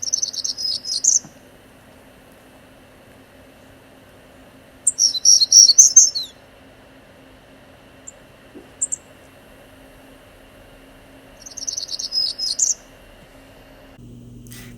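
Hermit Warbler song: three separate high, buzzy phrases, each about a second long, spaced several seconds apart over a quiet outdoor background, with a couple of faint short chirps in between.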